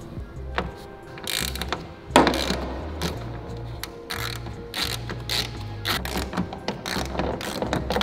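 Steady clicking of a ratchet wrench fitted with a 10 mm socket, backing out bolts on a car trunk while a carbon fiber duckbill trunk is being installed on a GTR; repeated ratcheting bursts with a sharper knock partway through, close and fairly loud.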